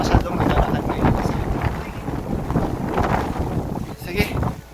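Cold wind gusts outdoors on a quiet Christmas Day street in Bristol, UK, buffeting the microphone with a steady rough rumble while a voice talks underneath.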